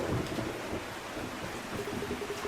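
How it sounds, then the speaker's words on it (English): Heavy rain pours steadily in a video game mystery set around a manor entrance, with low rumbling thunder rolling underneath, loud and continuous throughout with no speech. "The rain is so strong the mud splashed all the way here."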